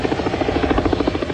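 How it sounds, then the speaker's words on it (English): A police helicopter flies over Los Angeles during the riots near Florence and Normandy, its rotor beating in a loud, steady, rapid chop close overhead with no voices. "Police, still unable to drive through the intersection of Florence and Normandy, decide to dispatch a helicopter to assess the area."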